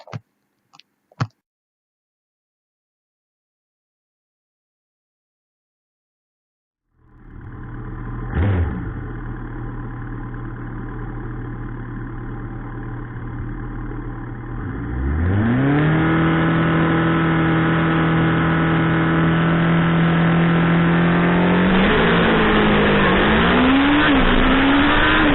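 Kawasaki ZX14R motorcycle at a drag strip: after a few sharp knocks and silence, the engine starts idling loudly, then rises to a sustained high-rpm burnout roar before a further climb for the launch, close and continuous.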